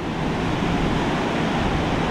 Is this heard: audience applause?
no